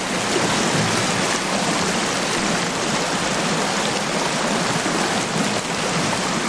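Waterfall in the Sons of the Forest video game, a steady, loud rush of falling water that fills the whole stretch without a break and with no one talking over it.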